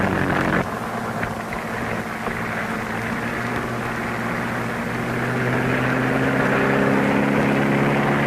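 Steady droning engine of a 1930s experimental tubular propeller plane, loud and continuous, with a low humming tone that swells slightly toward the end.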